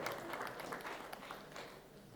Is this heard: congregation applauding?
yes